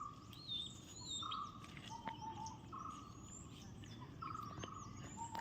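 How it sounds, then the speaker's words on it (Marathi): Birds call around a Mahadev temple in the Ramtirth area of Ajara, a few clear whistled and chirping notes repeating at moderate distance over a soft outdoor hum. "किती दिवसांनी हे पक्ष्यांचे आवाज ऐकतोय."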